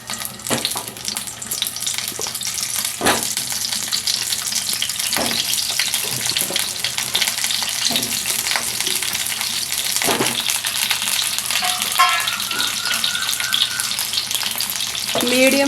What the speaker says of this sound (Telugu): వీటిని ఆయిల్లో వేసి వేయించుకుందాం.